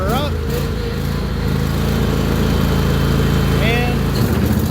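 The engine of a riding lawn mower runs loud and close at a steady rumble as it is throttled up, a continuous drone with shifting tones and a voice speaking over it briefly.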